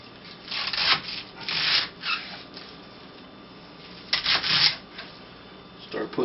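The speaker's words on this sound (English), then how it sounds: "Let's cut off the core." A knife cutting the core out of a cabbage, heard as several short scraping, crunching cuts spaced irregularly against a quiet kitchen background.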